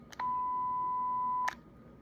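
A two-way radio gives one steady, clear electronic tone lasting just over a second while the push-to-talk and call buttons are held, with short clicks at its start and end.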